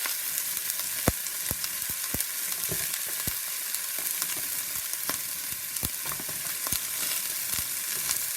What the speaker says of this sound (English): you just want to make sure that the onions are getting a little caramelized, but not too dark